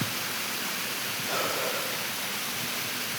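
Water cascading down a mountainside near the Buddhist caves at Mahad on the Mumbai–Goa highway, a steady, even rush of broadband noise that holds throughout, with no one talking.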